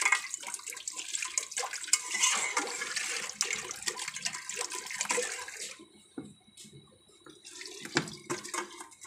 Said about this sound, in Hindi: अब इसमें ये ठंडा पानी डालेंगे।